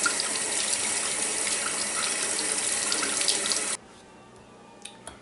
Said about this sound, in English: I just like taking a little scrub pad and scrubbing them before I get them chopped up